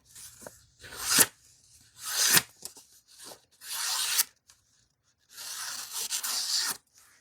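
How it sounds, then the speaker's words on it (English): A sharp CDC Hanson W XL knife in Midnight Edition slicing through paper in four separate close strokes, each a dry tearing rasp that swells and stops, with quiet pauses between cuts. "This blade is very sharp, so let's do some cutting here."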